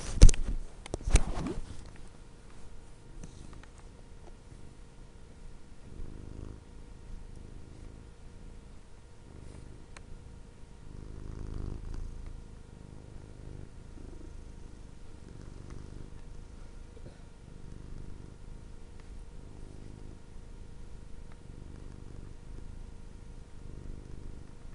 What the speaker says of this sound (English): I'm recording him purring.